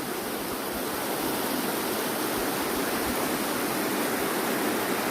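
A stream swollen after a night of rain rushes and gurgles in a steady, dense wash of water noise, continuous and close, with no voices.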